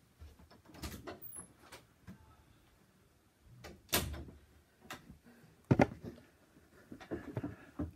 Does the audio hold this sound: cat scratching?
yes